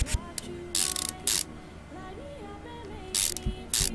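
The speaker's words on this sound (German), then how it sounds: "Natürlich das neue Getriebe ran." Mechanical clicks and ratcheting bursts from fitting a new gearbox in the Car Mechanic Simulator 2015 video game, several short loud clattering bursts over a low steady background hum.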